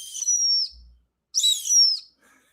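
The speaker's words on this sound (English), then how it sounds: "But it's a whistle too. It actually blows." A small Tesla Cybertruck merchandise whistle gives two loud, shrill blasts, each wavering slightly and separated by a brief silence.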